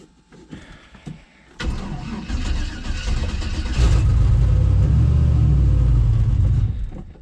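A cold start of a turbocharged LS engine in a C10 pickup: cranking at first, then the engine catches with a sudden loud burst and settles into a heavy, loud rumbling idle before cutting off near the end.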